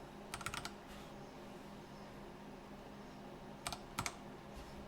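Quiet bursts of typing on a computer keyboard: a quick cluster of keystrokes, a pause, then a few more taps over a steady low room hum.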